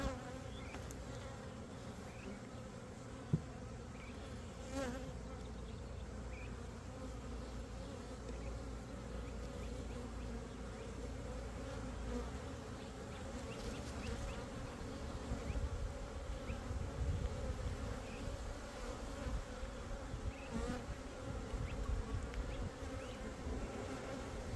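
Honey bees buzz steadily inside a nuc hive during a brood inspection, a continuous close hum with no talking.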